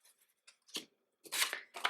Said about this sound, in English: I would just cut with a pair of scissors, especially if you don't care if it's perfectly straight.